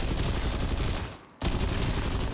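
Rapid, dense gunfire from the video game Synced, sustained and loud for about a second, a short lull, then another full burst of continuous shots.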